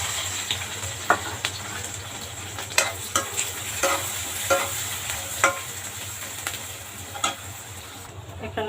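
Cinnamon, bay leaves and chopped onion fry in hot oil, giving a steady sizzle marked by intermittent scraping and tapping as a spatula stirs the pan.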